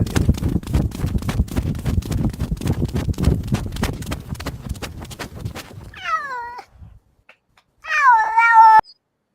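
A cat meows twice from a played cat clip, clear drawn-out calls that follow a fast run of sharp rhythmic tapping.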